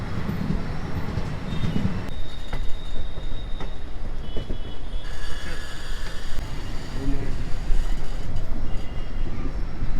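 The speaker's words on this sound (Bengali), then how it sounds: "আমাদের ট্রেন নৈহাটি ছেড়ে দিয়েছে" Teesta-Torsa Express passenger train pulling out of Naihati, a steady, loud rumble of wheels and carriages rolling throughout, with some metallic squeal and rattling.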